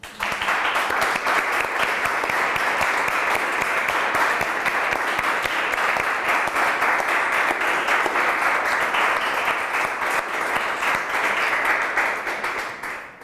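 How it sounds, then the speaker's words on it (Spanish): A lecture audience at a summer course on international reporting claps in a long, sustained round of applause, many hands beating steadily at an even level for over twelve seconds before stopping. "Pero sí le pido un fuerte aplauso."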